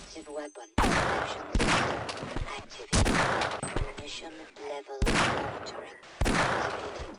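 Bursts of video-game gunfire come in repeated loud volleys, each cracking out for about a second with short gaps between, with a player's voice faintly under the shots.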